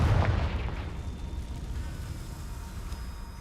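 A Confringo fire-spell explosion in the Hogwarts Legacy video game, heard as one loud, close boom at the start that rolls off into a steady, low rumbling decay.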